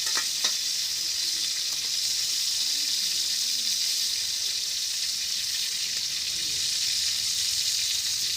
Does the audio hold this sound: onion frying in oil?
yes